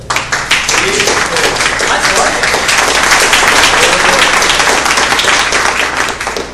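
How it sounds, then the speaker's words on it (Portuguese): A church lecture audience at a peace-promoters talk series claps together after a Gospel reading, a loud, sustained round of applause close by, with a voice faintly speaking over it near the start. "Vamos aplaudir a palavra de Deus?"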